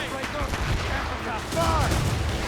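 Ship cannons fire in a naval battle in Assassin's Creed Rogue, loud booming blasts that roll and rumble, with a heavier burst near the end, mixed with shouting voices.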